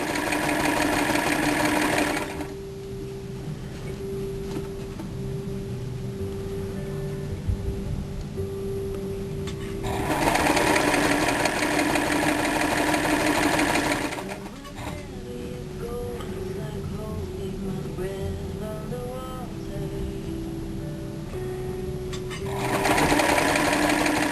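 A sewing machine stitches stretched elastic onto swimwear in stop-and-start bursts, loud steady whirring runs alternating with quieter pauses where handling noise and a faint hum remain.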